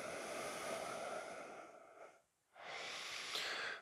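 Steady, audible breathing during a vinyasa yoga session fills the clip, broken by one brief pause before the rhythmic inhales and exhales resume.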